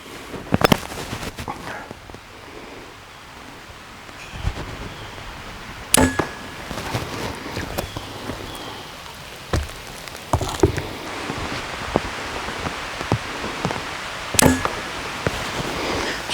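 Arrows shot from a 45-pound bow off a roof in light rain, a series of sharp isolated snaps and thwacks spaced several seconds apart over a soft, steady rain-like background.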